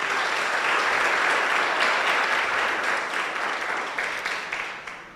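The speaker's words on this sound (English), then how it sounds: "Please give them a round of applause" Sustained audience applause at a school science and technology innovation challenge closing ceremony, a dense steady wash of many hands clapping throughout, easing slightly toward the end.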